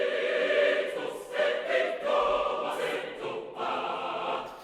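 A large mixed choir of 24 women and 24 men sings sustained chords up close, voices full and present, phrases swelling and shifting in a slow legato line.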